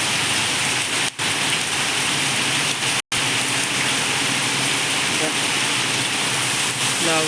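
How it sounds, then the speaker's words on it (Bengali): Heavy rain pours steadily, a dense continuous hiss of downpour close by, with brief gaps and a voice speaking faintly underneath near the end. "প্রচুর বৃষ্টি হচ্ছে বন্ধুরা, দেখো"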